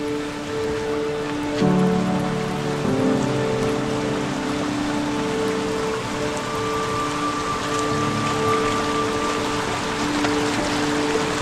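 Small waterfall at Sikidiri near Ranchi, a steady broadband rush of falling, splashing water that holds at an even level throughout, with no voices.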